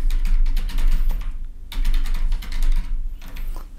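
Fingers type rapidly on a computer keyboard, close up, in two quick clattering bursts separated by a short pause, with a faint low hum underneath.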